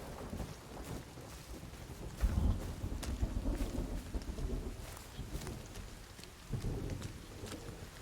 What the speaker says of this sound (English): Oh, the rain sounds